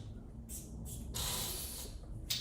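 Nasal spray of nootropic cognitive peptides, the Semax type usually injected, gives a few short close hissing puffs, with one longer burst in the middle and another brief spritz at the end.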